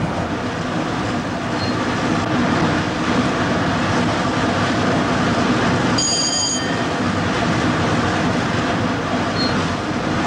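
A British passenger train runs at a 125 mph cruising speed, heard as a continuous loud rumbling roar of wheels and track noise from on board, with a brief high squeal midway.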